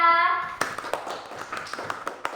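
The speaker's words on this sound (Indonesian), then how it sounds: "beri tepuk tangan untuk Raya" Scattered hand claps from a small group of students in a classroom during a practice teaching session, sparse and uneven, following a fading voice at the start.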